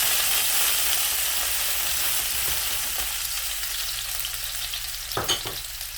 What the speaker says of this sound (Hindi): फ्राई करने का मकसद है कि आलू में एक परत सा ऊपर बन जाता है जो कि बहुत मज़ेदार टेस्ट देता है